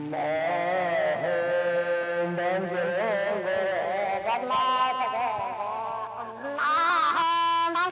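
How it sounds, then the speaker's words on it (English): Warbling electronic tones from a voltage-starved circuit-bent device glitch and bend erratically, sliding pitches with bleat-like wavering and abrupt jumps, fairly loud and continuous. "it causes the internal logic on the chips to kind of start to glitch out."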